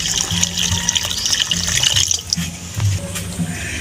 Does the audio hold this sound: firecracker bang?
no